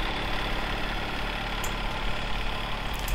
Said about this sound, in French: je baisse un peu le son du tracteur parce que ça défonce les oreilles